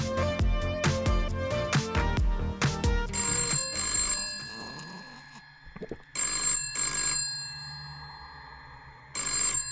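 A telephone rings in repeated bursts over background music, several distinct rings spaced across the clip, loud and close with no talking.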